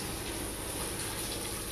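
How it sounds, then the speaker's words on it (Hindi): Water poured over an outdoor waterproof P6 LED wall panel, a continuous dense splashing rush lasting throughout at steady moderate loudness, with no voices. "प्योर पानी मैंने डाला है इसमें,"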